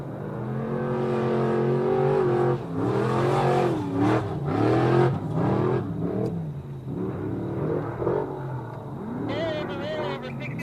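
An off-road race truck's engine revs hard during 2021 Legacy Racing Association Baja Nevada qualifying, surging and dropping in loud, close bursts that rise and fall in pitch over several seconds.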